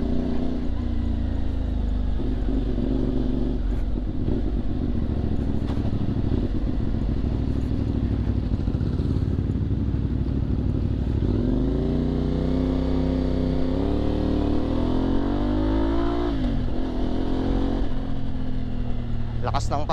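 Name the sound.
CF Moto 450MT motorcycle riding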